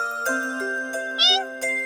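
One short, soft cat meow rises briefly over a steady tonal background hum with faint jingling ticks.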